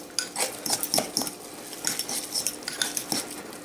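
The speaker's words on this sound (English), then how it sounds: "So now all you do is just stir it up." A fork stirs canned tuna with Miracle Whip in a bowl, giving repeated close clinks and scrapes of metal against the dish in an irregular rhythm, with no talking.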